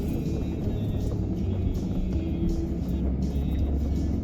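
A vehicle rolls slowly over bumpy ground through weeds, its engine giving a steady low rumble and drone that holds even throughout, with no talking.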